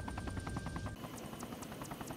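Helicopter in the Arma 3 video game coming in, a dense steady rotor and engine roar with rhythmic chopping, loud and continuous, shifting in tone partway through.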